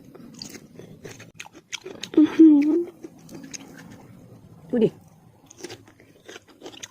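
Crunching bites on crispy, puffy fried cheese-flavoured chicken feet snack, with a few loud crunchy bursts among softer chewing, close to the mic, with a voice speaking around the bites.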